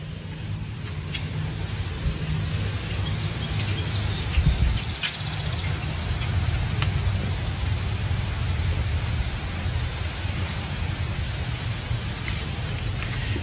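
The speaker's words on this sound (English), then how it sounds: "It's just a little bit of rain." Light rain falls outdoors as a steady soft hiss, with a few bird chirps scattered on top and a brief low bump partway through.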